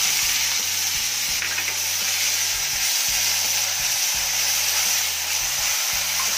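Crushed small shallots frying in hot oil with popped fenugreek seeds for a coconut-milk fish curry, a loud continuous sizzle with a constant steamy hiss and faint low clatter beneath.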